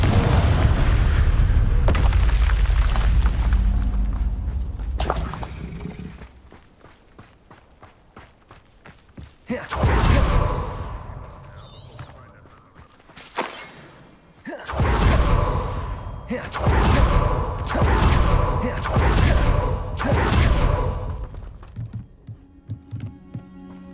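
Repeated fiery spell blasts in the video game Hogwarts Legacy, played on PC, thump out as loud booming bursts separated by quieter rumbling gaps, with a low throbbing game soundtrack underneath.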